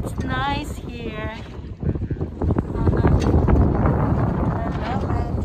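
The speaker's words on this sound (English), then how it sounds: "In the middle of a lake, we're so windy here, see?" Strong wind on a lake at Shoreline Bay in San Jose buffets the microphone with heavy low rumbling gusts, loud and continuous, while people talk briefly at the start.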